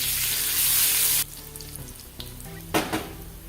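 Garlic and crushed curry leaves frying in hot oil for a Maharashtrian kulith pithla, a loud, dense sizzle for about a second that drops to a quieter crackle with a brief flare near the end.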